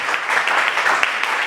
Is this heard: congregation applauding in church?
yes